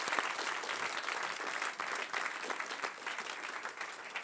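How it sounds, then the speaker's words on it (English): Audience applause at a science-communication competition semi-final, steady dense clapping filling the whole stretch at even loudness with no talk over it. "Thaw your hands out by applauding, please, for our refrigerator orator, Caroline Shenton-Taylor."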